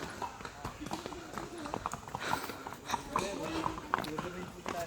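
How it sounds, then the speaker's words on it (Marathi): Horse hooves clop in an uneven rhythm nearby, mixed with people talking, at the Matheran hill station. "बघा इथं शूज घालून यायचं बाबा. हे चपला पटत नाही, चालायला जमत नाही ह्याच्याने. हे बघा घोडे."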